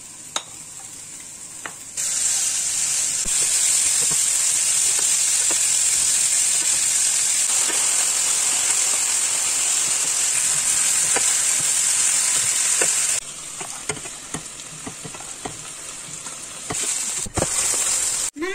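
Onions sizzle steadily in olive oil in a pan, with garlic, lardons and turkey slices going in. A loud, continuous frying hiss is broken by a short quieter gap and occasional stirring clatter.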